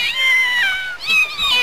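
Thin, high-pitched mewing from small kittens in a Doraemon cartoon, two drawn-out cries in a row, close and fairly loud with no one talking.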